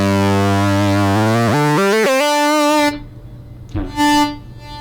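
A distorted electronic synth tone from a Gamechanger Motor guitar pedal rises in pitch over about two seconds as the expression pedal is pushed, holds a steady note, then briefly cuts out before returning.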